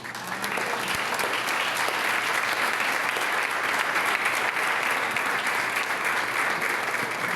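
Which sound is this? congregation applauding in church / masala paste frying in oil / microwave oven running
congregation applauding in church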